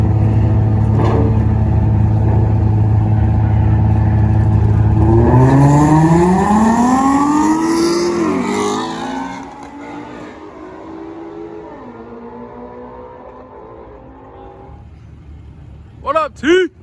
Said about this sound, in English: this GT350 gonna gap this guy